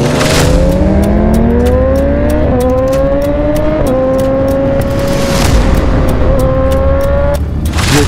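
Loud motorcycle engines, sport bikes such as Gixxers and ZX10s among Harleys, rev close by in rising and falling pitch sweeps that climb through repeated throttle blips, with a steady engine rumble underneath and no voices.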